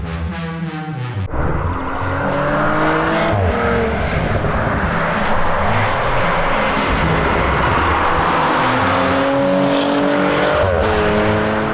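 A Porsche Macan GTS drives on country roads in the Odenwald, its engine loud and close, revving up through rising gear pulls with shifts and a steady roar under a constant wind rush, no talking.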